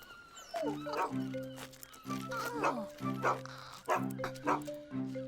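A cartoon dog barks in repeated short bursts, with yips and whimpering tones between them, fairly close and lively, from the Fireman Sam cartoon.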